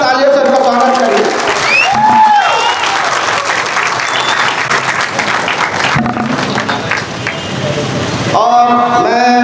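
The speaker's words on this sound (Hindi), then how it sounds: "धन्यवाद और जोरदार तालियों से उनका स्वागत करिए।" An assembled audience at a union gathering breaks into loud, dense applause to welcome guests, with voices and a whistle-like tone rising over the clapping before it fades and talk returns.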